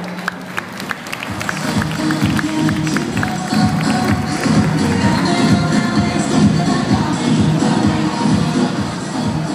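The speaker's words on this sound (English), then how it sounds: "a round of applause to the chairman of the Board of Judges" Pageant audience applauding the chairman of the judges, sustained loud clapping from many hands that builds over the first seconds and then holds steady, with scattered crowd noise.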